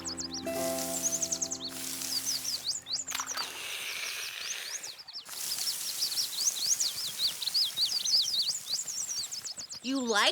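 Cartoon birds bathing in water chirp in rapid high bursts, with splashy noise between calls and a tonal musical passage near the start.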